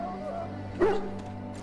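A dog in The Warden gives a single short yelping bark that trails into a whimper, fairly close and clear, over a steady low hum with a voice speaking nearby.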